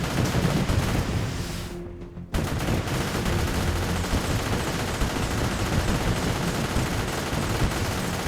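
An artillery tower in M.A.C.E. Tower Defense, a PS4 game, keeps up dense, continuous gunfire and booming blasts, cut off by a short gap of silence before the barrage resumes.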